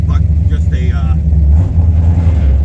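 A carbureted car engine runs with a steady low rumble, rolled into a rev with sluggish throttle response as if lacking an accelerator pump; the engine noise stays close and continuous throughout.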